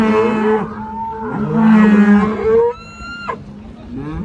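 A bull moos loudly and close by in a drawn-out, wavering call lasting a couple of seconds, near a beach in Fujairah, UAE. A brief higher tonal sound follows, with no talk.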